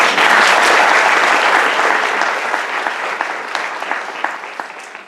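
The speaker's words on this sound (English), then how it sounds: "Give yourselves a round of applause for that" Loud audience applause at a campus presentation, dense clapping at the start that gradually thins into scattered claps.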